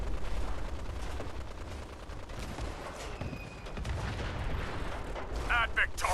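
Sniper rifle fire in the video game Fallout 4, sharp gunshots cracking over a busy background of distant combat and game noise, with other bursts and clatter mixed in.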